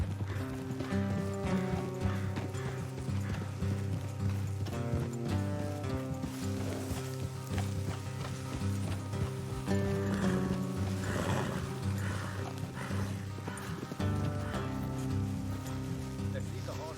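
Horses in the Red Dead Redemption 2 video game clip-clop along a road, with occasional neighing, heard under steady background music and some rain throughout.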